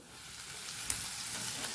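Hot oil hisses and sizzles steadily as it is poured over spices for rayta marcha, with a sharp crackle partway through; close and continuous, no voices.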